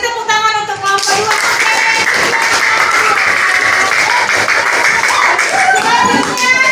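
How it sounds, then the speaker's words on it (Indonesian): A room of participants applauds group 2 after its presentation, a loud, dense burst of many hands clapping steadily for several seconds, with a few voices and a voice mixed in. "Kasih tepuk tangan untuk kelompok 2"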